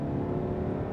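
A 2021 Citroen C5 Aircross SUV accelerating hard on full kickdown from 80 km/h in third gear on a highway, with a loud, steady engine roar and road noise filling the cabin, no talk.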